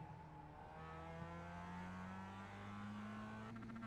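A Global MX-5 Cup race car engine in the iRacing game at Okayama Short, revving hard and steadily climbing in pitch with a brief upshift, loud and close for a few seconds.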